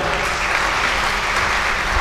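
An audience at an Urdu fiction award ceremony at Lucknow University fills the hall with loud, dense, continuous applause, steady and without any talk.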